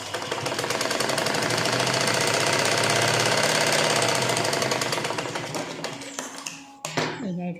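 Sewing machine stitching blouse fabric: a loud, close, continuous rapid mechanical whirr that runs steadily for several seconds, then slows and stops with a few clicks.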